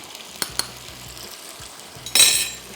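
Prawn biryani masala fries gently in a pan with a soft sizzle, broken by a few metal clinks of a spoon against the pan and a louder scrape near the end.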